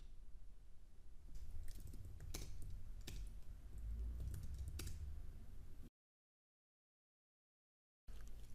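Someone types code on a computer keyboard in the ReSharper editor, giving a close run of crisp, irregular key clicks for about six seconds before the sound cuts to silence.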